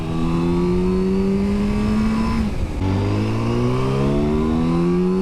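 Yamaha R7 motorcycle engine revving hard while riding, a loud sustained climbing whine that drops briefly with a gear change and then rises again.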